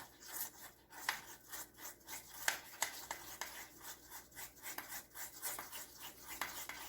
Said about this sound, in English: Let's stir that in, stir it in, stir it in.